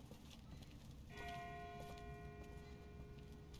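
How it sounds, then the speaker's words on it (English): A distant bell tolls once and hangs with a long, ringing decay over steady rustling and clip-clop in The Walking Dead game, faint and far off. "That's not the same bell as before. This one's further off."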